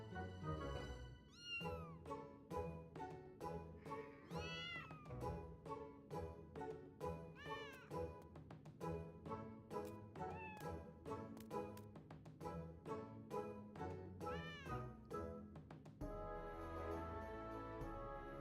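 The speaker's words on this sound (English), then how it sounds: "These are my kittens." Kittens meowing repeatedly, high rising cries over a steady background of music or noise, several calls spread across the clip, fairly near and clear.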